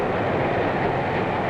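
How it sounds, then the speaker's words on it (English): A diesel freight train rolls past with a steady, dense rumble and roar that holds at an even loudness throughout, with no breaks and no voices. "Freight cars behind its diesels."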